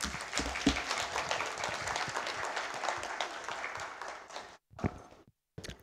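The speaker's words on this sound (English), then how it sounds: "You can applaud them." Audience applause at a university industry research conference session, dense scattered clapping that holds steady for several seconds, then thins into a few last claps and brief gaps.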